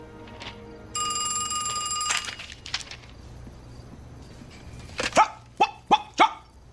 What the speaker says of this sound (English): Yes, ma'am, that is my dog.